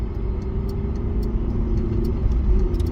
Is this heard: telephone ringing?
no